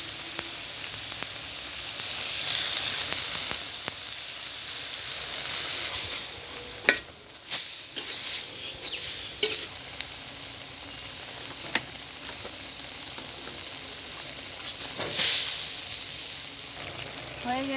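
Spinach sizzles and hisses in a pan of small fish curry, steady moderate frying with occasional clinks of stirring and sharp bursts of spitting.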